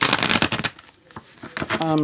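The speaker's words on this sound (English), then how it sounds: "I'm going to shuffle each deck a little bit in front of you guys so you can see that." Tarot card deck being shuffled by hand, a quick run of crisp riffling flutters followed by a pause and a few softer shuffles, with a person talking at the end.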